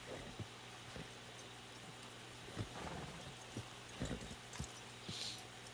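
Horses clopping on hard ground, irregular hoof hits scattered through a steady low background hum, fairly faint and distant.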